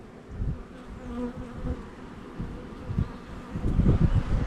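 Honeybees buzz around an open hive, a low, steady, close drone that swells louder near the end. Individual bees fly past the microphone, and no one talks.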